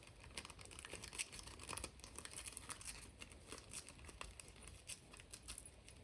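Grease proof paper torn by hand in short, quiet rips and crinkles, close up with an irregular rhythm and no talking.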